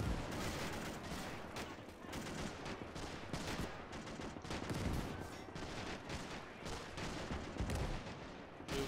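Distant, dense battlefield din from the video game Gates of Hell: Ostfront, with overlapping gunfire and artillery bursts forming a steady rattle and thump at low level throughout.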